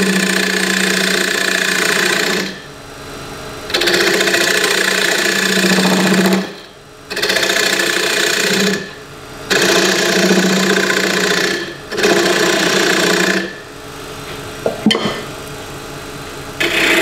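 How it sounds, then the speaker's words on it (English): A wood lathe hums steadily while a parting tool cuts down an off-center pendant blank in several bursts of rough, buzzing scraping, separated by brief pauses. "I'm just going to come in with a parting tool and get the size down."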